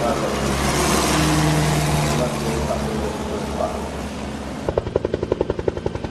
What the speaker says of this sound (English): Arriving at the rescue site, the helicopter of the 508 search and rescue group of the Philippine Air Force.